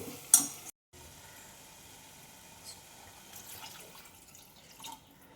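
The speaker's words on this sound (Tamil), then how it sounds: "சிக்கனை போட்டு நல்லா அதை வந்து மிக்ஸ் பண்ணி மிக்ஸ் பண்ணிடணும்" Chicken being mixed into biryani in a cooking pot, heard as quiet stirring and wet scraping with a faint sizzle underneath.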